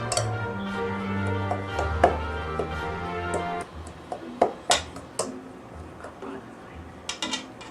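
A knife cuts butter into Christmas cookie dough ingredients in a bowl, giving scattered light clicks and taps of metal against the bowl over a steady tonal background, with a few sharper knocks toward the end.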